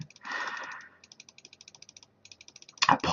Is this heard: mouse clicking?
yes